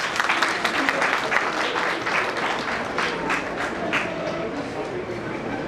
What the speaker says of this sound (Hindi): एक बार आप अपने सारे वॉलंटियर, अपने वॉरियर्स अपने लिए ताली बजा लीजिए जोरदार